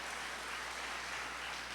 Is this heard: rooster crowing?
no